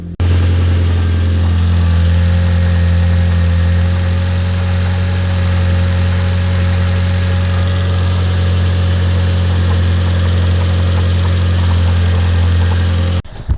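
A Mitsubishi Lancer Evo X engine idles steadily and loudly up close with a deep, even rumble, running smoothly without bogging for the whole stretch after being started with new AN fuel fittings.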